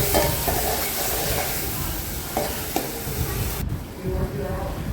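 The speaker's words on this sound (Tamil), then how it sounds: "தக்காளி வெங்காயத்தை நல்லா வதக்கினதுக்கு அப்புறம் இஞ்சி பூண்டு பேஸ்ட்டு சேர்த்துக்கணும்." Tomatoes and onions sauté with ginger garlic paste in a pan for a thokku, a continuous close sizzle and hiss broken by a few stirring scrapes and clinks.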